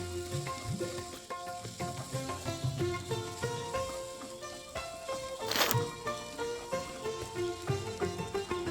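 Sliced onions sizzle and crackle steadily as they hit hot oil in a pan while cooking a chicken dish, the frying hiss running continuously beneath louder rhythmic background music.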